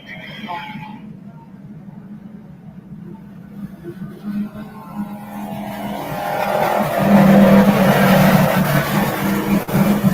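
Racing kart engine at a kart complex, a sustained droning motor that builds louder toward the end, with crowd and ambient noise around it.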